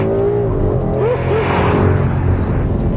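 A 2011 Ford Mustang GT V8 with Magnaflow exhaust and a Power Pack accelerating hard around a bend, a loud, steady engine roar heard from inside the car as the revs climb.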